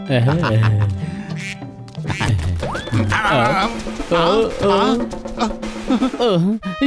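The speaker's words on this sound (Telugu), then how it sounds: "ఎంత పని చేసావు మోటు, చిన్న బాతును పట్టుకోలేకపోయావా?" A cartoon duck quacks in short nasal bursts amid excited animated dialogue and background music, the calls loud and close and mixed under the voices.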